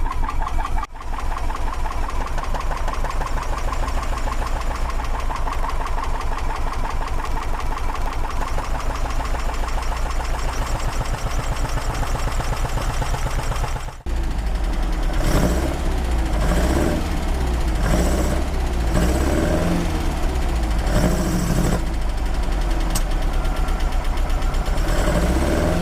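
Porsche 914 engine with twin Weber carburetors idling loudly and continuously while being tuned, the revs rising slightly partway through with an uneven, pulsing rhythm.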